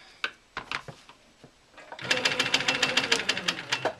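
A sewing machine stitches a quilt block. A few faint taps come first, then a steady, fast, rattling run of stitches that is close and fairly loud, with no talk over it.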